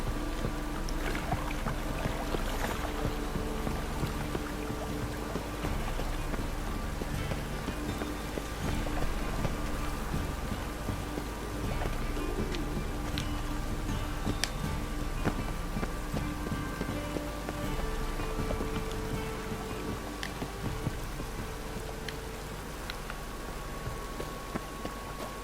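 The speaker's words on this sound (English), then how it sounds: "Rain again." Rain falls steadily in the video game Witcher 3, a soft, constant patter with faint scattered knocks and thuds mixed in.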